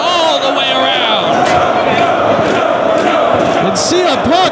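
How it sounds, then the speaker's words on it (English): Live pro wrestling crowd at a Ring of Honor event roaring and chanting for Samoa Joe, a dense, loud, continuous wall of cheering voices throughout, with shouts rising above it. "The crowd going nuts for Samoa Joe"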